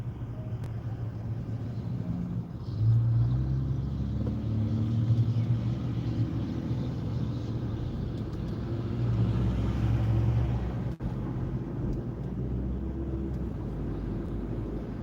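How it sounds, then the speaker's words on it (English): Cars crawl through stop-and-go afternoon road traffic, heard as a steady low rumble of engines and tires from inside a vehicle, with no clear single pass-by. "There's so much traffic. Cars are cutting each other off. It's stop and go."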